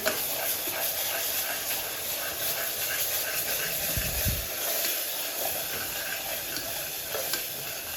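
Onion paste sizzles in hot oil for a mutton garlic curry, a steady hiss filling the background with a brief louder crackle as it hits the pan, no talk.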